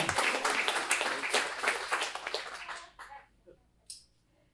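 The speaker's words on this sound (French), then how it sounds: "Vous avez le droit de vous applaudir." A crowd applauds with dense clapping that fades out over a few seconds, leaving scattered claps.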